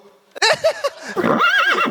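A person imitates a horse's whinny at a Kazakh bride's farewell wedding celebration: a loud, wavering, neigh-like call of about a second and a half, rising and falling in pitch, following a few short, bright bursts.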